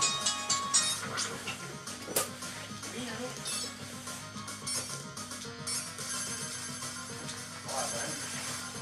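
Home telephone ringing with a telemarketing call, an electronic ring repeating over a steady background hum and clatter, fairly close, with voices talking in between.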